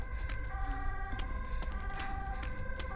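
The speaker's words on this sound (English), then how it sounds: "you hear them sirens?" Emergency sirens in the horror video game Fatal Frame IV, a steady wailing tone with overlapping harmonics sustained throughout, accompanied by ambient background noise and occasional clicks.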